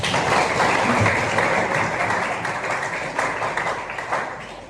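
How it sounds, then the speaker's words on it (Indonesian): Students clap together in a classroom, a dense, steady patter of applause that starts strong and slowly thins out over a few seconds, with no talking over it. "Tepuk tangan kita."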